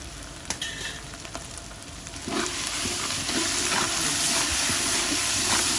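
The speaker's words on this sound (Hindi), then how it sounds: "हमें अदरक लहसुन अपने मसालों के साथ फ्राई करा है हमने" Crushed ginger and garlic paste fries with spices in a pot for chicken haleem, a steady close sizzle that swells louder partway through, with light stirring scrapes and no talking.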